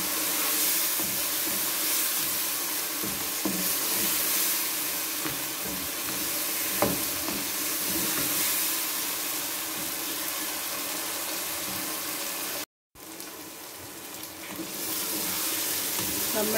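Peas frying with green chillies and garam masala for matar pulao, a close, steady sizzle with soft stirring scrapes filling the whole stretch and no voices over it.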